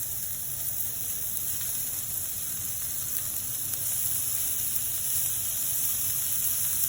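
Steady sizzling and hissing from ground meat frying in a hot pan over medium-high heat, continuous and close, with no voices.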